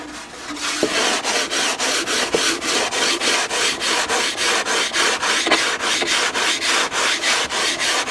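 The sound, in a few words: sanding fuselage with sanding block and 220-grit paper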